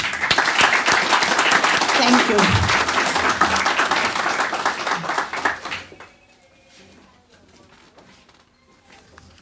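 Audience applause at a scholarship event, sustained and fairly loud for about six seconds before fading into room quiet, with a brief spoken thanks near the end.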